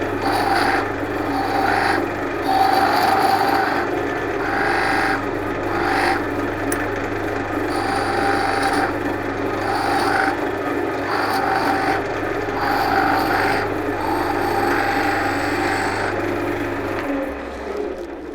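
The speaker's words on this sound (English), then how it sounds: "So I'm just using the peeling cut" Skew chisel taking a peeling cut on a spinning workpiece on a wood lathe, a steady close rasping shave with a constant low motor hum and repeated swells as the tool sweeps along, stopping near the end.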